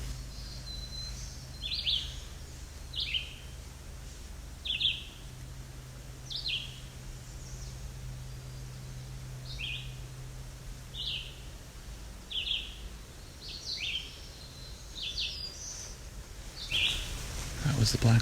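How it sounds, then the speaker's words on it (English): A black-throated blue warbler sings a series of short, high, buzzy phrases, repeated about a dozen times at a steady pace, faint and distant over a low outdoor hum near Alvar Bay. "That was the black-throated blue again."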